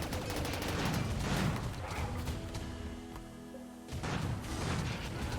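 Slug turrets firing at enemies as they leave a trickle-feeder corridor in RimWorld, a dense, steady rattle of overlapping gunfire that runs throughout and drops out briefly near the end before resuming.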